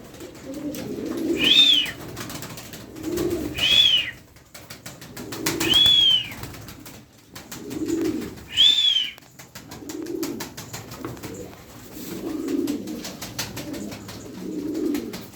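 A flock of pigeons coos in soft, low, repeated phrases, broken by several brief bursts of wing flapping and clattering take-offs, fairly close with no talking.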